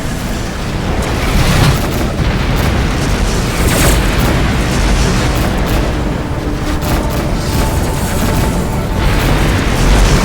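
Missile explosions in the space combat game Rebel Galaxy, a dense, continuous roar of booms and bursts rumbling loudly and heavily without any voice over it.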